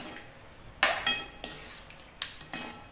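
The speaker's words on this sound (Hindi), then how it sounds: "इसे हिला देंगे और मिक्स कर देंगे" A spoon stirring lemons and spices in a metal pan for lemon pickle, giving several sharp clinks and scrapes spaced irregularly over a quiet background, close by with no voices.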